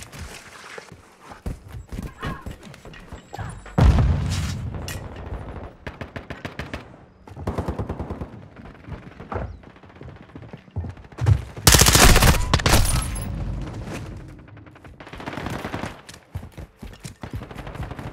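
Gunfire in Call of Duty Modern Warfare II, a Kill Confirmed match on PS5: loud repeated bursts of rapid automatic shots and single reports throughout, with heavy fusillades near four and twelve seconds, close and dominant.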